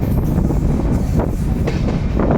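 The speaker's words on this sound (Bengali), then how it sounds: "এই ট্রেনটা হইল কাঞ্চনজঙ্ঘা এক্সপ্রেস।" The long Kanchenjunga Express runs along a hill line in Assam, heard from on board or close by as a steady loud rumble with rail clatter throughout.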